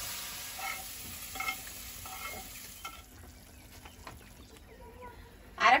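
A spiced tomato masala for curry crackles softly in a pan as a spoon scrapes and stirs it, a moderate sizzle with light knocks, fading quieter before a brief louder clatter at the end.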